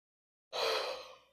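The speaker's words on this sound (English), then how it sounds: "Whenever I film, I just start to yawn excessively" A person gives a single breathy exhalation, like the tail of a yawn or a sigh, close to the microphone and fading out after about a second, with no talking.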